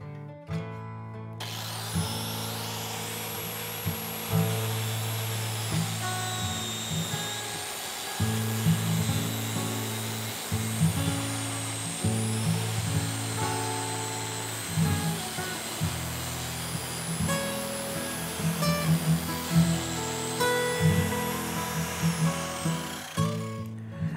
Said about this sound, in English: After using the grinder and cutting off these rivet caps